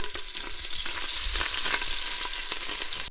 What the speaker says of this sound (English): First thing we're gonna do is cook up all the bacon.